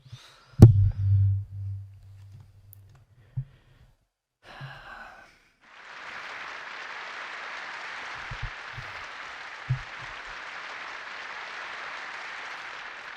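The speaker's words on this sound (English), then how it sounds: "I have heard a thunderous applause" Thunderous applause filling a concert hall in the visual novel White Album 2, a broad, steady wash of clapping that rises after a few soft thumps and a breath, sustained for several seconds without speech.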